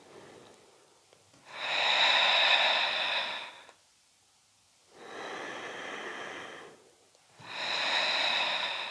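Slow, deep breaths during a Pilates exercise on a large ball: three long, steady airy breaths, each two to three seconds, separated by brief quiet pauses, close and clear with no talking.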